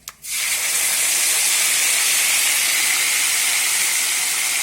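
Ginger garlic paste hits a hot pan while a white gravy is being cooked, bursting into a loud, steady sizzling hiss that starts abruptly and carries on without a break.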